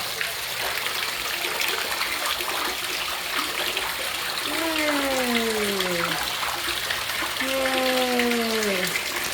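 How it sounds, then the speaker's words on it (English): Water pours steadily into a flooded basement in a house in Indianapolis, Indiana, falling in two streams like a waterfall, a loud continuous gush with a faint tonal whine rising and falling twice in the background. "it's like a double fucking waterfall right there"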